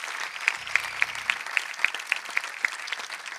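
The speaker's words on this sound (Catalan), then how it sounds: "vos demano un fortíssim aplaudiment a Audiosite" Sparse applause from a small audience at a concert during the Sant Vicent festival in Borriol, with a handful of distinct claps at a steady beat over a soft wash of further clapping and a low hum that comes in briefly.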